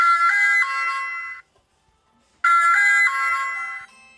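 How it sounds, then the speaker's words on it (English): Ring Chime Kit mini plays its single-tone electronic chime twice, a bright sustained two-note ding with harmonics that fades over about a second, then a pause of silence before it rings again, close and clear with no talk. "It is just a chime with one tone."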